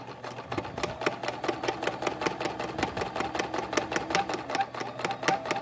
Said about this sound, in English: I just love the sound of a sewing machine.